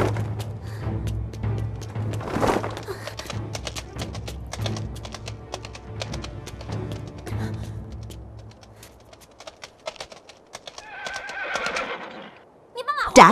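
A horse neighs loudly while hooves clip-clop in a scene from a Vietnamese martial-arts drama. Voices and scuffling sound around the animal, and a sharp whinny rises near the end.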